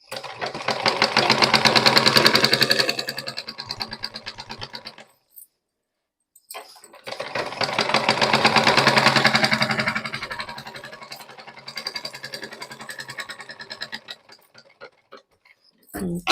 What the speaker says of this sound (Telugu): దీని మీద కుట్టేస్తున్నాను నేను